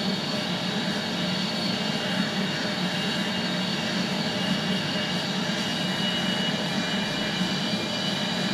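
An F-16 jet engine in the Falcon 4.0 flight simulator video game whines and roars steadily while the jet taxis, loud and constant with no breaks and no speech.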